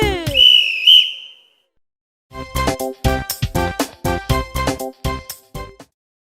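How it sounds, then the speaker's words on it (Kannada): A bus conductor's whistle in a children's rhyme gives two shrill toots at the start, then falls quiet before a run of plucked, rhythmic music notes. "ಸೀಟಿಯನ್ನು ಊದುವೆ"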